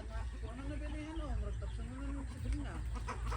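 A chicken clucks nearby on a farm, a few short warbling calls heard faintly over low background noise.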